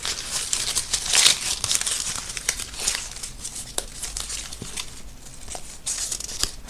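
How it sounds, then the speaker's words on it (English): Slips of paper are handled and shuffled aside, giving close, intermittent crinkles and rustles with short sharp crackles spread irregularly over several seconds. "Let's move those slips of paper aside."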